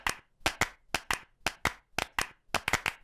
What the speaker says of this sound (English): If you can clap, you can make music.